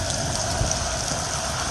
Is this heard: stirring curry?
no